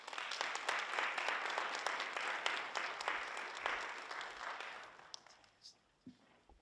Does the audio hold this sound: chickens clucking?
no